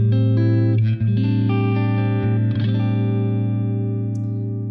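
Clean electric guitar chords through the clean channel of a Peavey Classic 20 Mini all-tube amp head ring out warm and sustained, several strums letting notes hang and slowly fade.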